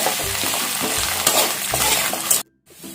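Curry leaves spit and crackle as they fry in hot oil for beetroot chutney, a loud, dense sizzle with stirring scrapes for about two and a half seconds before it abruptly cuts out, then a quieter hiss returns.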